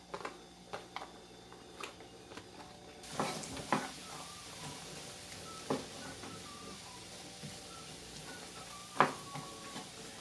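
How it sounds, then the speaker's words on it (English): One whole chopped onion sautés in a hot skillet, a faint steady sizzle with scattered clicks and utensil taps; the sizzle grows denser after a few seconds and stays soft and close. "I'm going to go ahead and put the onions in there so they can saute."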